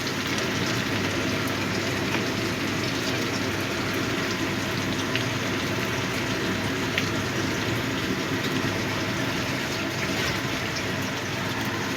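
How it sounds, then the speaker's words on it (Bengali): Ginger garlic paste sizzles steadily in a hot pan, a loud, dense, continuous crackle that holds without a break and with no voices over it. "এবার দিয়ে দিচ্ছি আদা রসুন বাটা"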